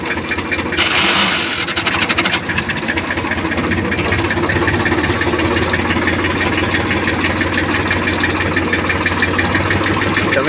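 Farm tractor engine idling steadily in an open field, a continuous low rumble with vibration throughout, louder briefly near the start, with no talking.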